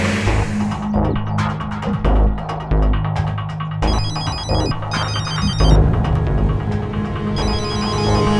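A telephone rings in repeated electronic bursts over a throbbing, humming dramatic music bed, loud and prominent with no talk.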